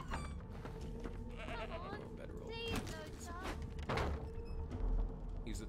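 A sheep bleats a few times in Divinity: Original Sin II, in a fantasy role-playing game scene, with the calls mixed under steady talk and game background sounds.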